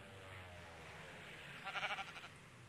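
A sheep in Minecraft gives a short wavering bleat partway through, standing out over a faint continuous background hum.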